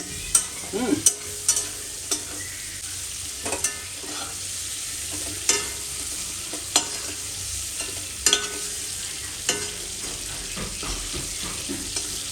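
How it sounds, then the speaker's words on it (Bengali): Prawns frying in oil in a pan for a potol chingri dish, a steady soft sizzle broken by repeated scraping clicks of a spatula stirring them, close and alone with no talk. "এইভাবে দেখুন ভালো করে আমি ভেজে নিচ্ছি"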